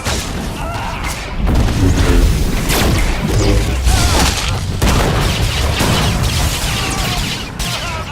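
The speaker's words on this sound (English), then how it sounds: "Fire missiles now!" Missiles launching and exploding in the Star Wars: The Old Republic video game, a dense, continuous wash of booms and whooshes with layered crashes throughout, loud and sustained with no clear gaps.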